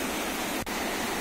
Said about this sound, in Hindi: ये झरना